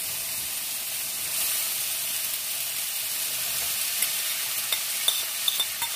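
Sliced bitter melon (ampalaya) stir-fries in a hot pan, giving a steady close sizzling hiss with a few light clicks of a utensil toward the end and no voices.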